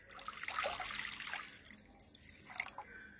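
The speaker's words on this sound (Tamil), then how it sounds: "சட்டியில 1 சொம்பு தண்ணி ஊத்துறேன்." Water is poured from a small vessel into a cooking pot to make black kavuni rice porridge. A faint, close splashing pour comes first, then a quieter pause and a brief final trickle.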